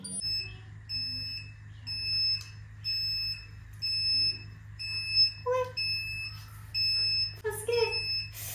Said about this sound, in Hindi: क्यों बीप करे जा रहा है अब ये।